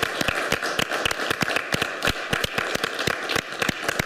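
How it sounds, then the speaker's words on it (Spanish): A studio audience on a live Chilean talk show claps, with sharp, distinct hand claps sounding fairly close and irregular, suggesting a small group rather than a large crowd. "Un aplauso."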